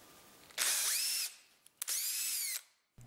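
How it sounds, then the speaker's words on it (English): A power drill spins a handmade wooden knob in two bursts, each a loud whirring whine that rises in pitch as the motor spins up, separated by a short pause and a small knock. "you can chuck it into the drill just to see how true it spins"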